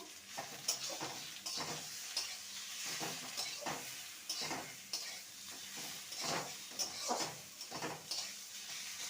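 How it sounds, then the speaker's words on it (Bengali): Fried eggplant and beto greens are stirred in a pan with onion and garlic, the spatula scraping in repeated strokes over a soft continuous sizzle, close and fairly quiet. "এবার ভেজে রাখা বেগুন আর শাককে দিয়ে দেবো ভালো করে নেড়ে নেবো"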